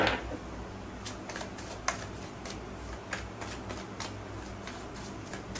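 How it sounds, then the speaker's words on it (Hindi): A deck of tarot cards is shuffled by hand in soft, quick riffling flicks, quiet and close in an otherwise hushed room. "चलिए अच्छे से शफल कर लिया है"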